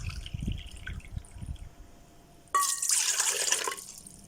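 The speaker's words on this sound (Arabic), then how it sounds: "هحط كوبايتين مية." Two standard measuring cups of warm water poured into a mixing bowl for fino bread dough: a quiet stretch gives way to a sudden, loud, rushing pour that continues splashing steadily to the end.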